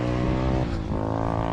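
A motorcycle engine drones loudly and close for a moment, a buzzing harmonic tone whose pitch dips slightly and then recovers.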